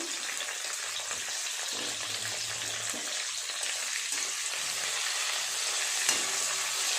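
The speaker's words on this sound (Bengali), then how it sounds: "নেড়ে চেড়ে ভালো করে মশলাটাকে একটু ভেজে নেব" Whole spices, chopped onion and two dried red chillies fry in a pan, giving a constant hissing sizzle at moderate volume with occasional soft stirring sounds and no talk.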